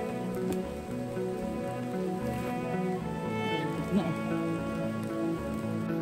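Steady rain patters on a surface throughout on a hiking trail at Mt. Batulao, Batangas, a constant dense hiss with a faint tonal hum underneath and no speech.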